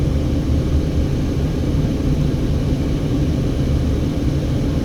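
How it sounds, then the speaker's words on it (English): A car crossing the Hoover Dam, heard from inside as a steady, loud low road rumble and engine drone that holds even throughout with no voices. "We're driving over the Hoover Dam."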